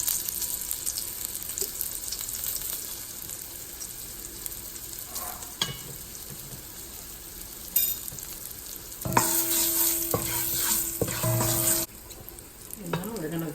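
Garlic with a half teaspoon of curry powder sizzles steadily in a pan for mango curry chicken, with scraping stirs and a louder, busier burst of frying near the end.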